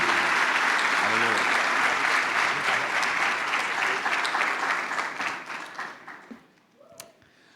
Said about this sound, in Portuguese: Vamos aplaudir o Senhor mais uma vez em nome de Jesus.